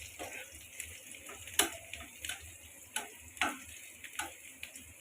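A utensil stirs shrimp bhuna in a pan. It scrapes and clicks at an irregular pace over a soft sizzle, with several sharp clacks standing out.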